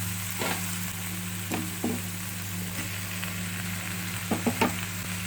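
Cabbage and potato curry with tomato frying in a pan makes a steady sizzle under a low electrical hum, broken by a few clustered scrapes of a stirring spoon.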